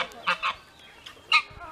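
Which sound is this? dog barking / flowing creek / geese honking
geese honking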